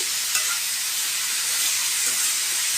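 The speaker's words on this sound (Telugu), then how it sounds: "ఒక 5 నిమిషాలు హై ఫ్లేమ్లో దీన్ని వేగనివ్వండి." Radish curry frying in a pan on high flame: a steady, loud, hissing sizzle that holds evenly throughout, with a faint clink near the start and no voices.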